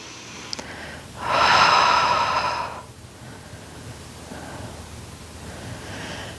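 A deep, audible breath during a Pilates leg-lowering exercise: one long, loud airy exhale swells and fades over about two seconds, followed by quieter soft breathing.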